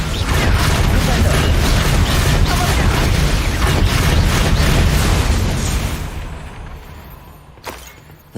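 A Flipendo knockback spell is cast in Hogwarts Legacy amid dense, loud game action, with a continuous roar of bursts and impacts that fades out toward the end and is followed by a brief thud.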